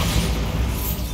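A Bombarda blasting spell goes off in Hogwarts Legacy, a loud, dense rumbling boom that fills the whole moment with heavy low-end roar and no distinct separate hits.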